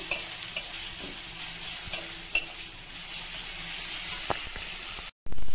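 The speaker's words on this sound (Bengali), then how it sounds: "এবার তো হলুদ দেবো, নুন দিয়ে দেবো, সুন্দর করে কষিয়ে নেব।" A curry with turmeric and salt is sautéed and stirred in a pan, giving a steady close sizzle of frying with occasional scraping strokes, and the sound cuts off briefly near the end.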